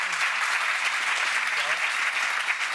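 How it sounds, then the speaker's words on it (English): An audience at an entrepreneurs' event gives a round of applause for the guests, dense and close clapping that stays even and steady throughout. "we'll give them all a round of applause"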